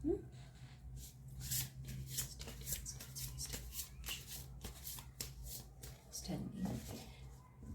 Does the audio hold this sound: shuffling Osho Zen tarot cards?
yes